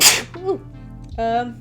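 A single sharp sneeze bursts out loudly and close at the start, followed by a brief spoken exclamation and then more talking.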